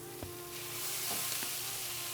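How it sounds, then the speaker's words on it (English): Fresh, homemade coconut milk pours into a pan of cooking plantain gnocchi, setting off a steady hot sizzle with a few soft clinks of utensils, close and alone without talk. "Let's add the coconut milk."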